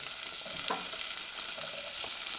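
Carrots and celery sizzle and fry in a hot pan, giving a steady hiss with a few soft stirring scrapes.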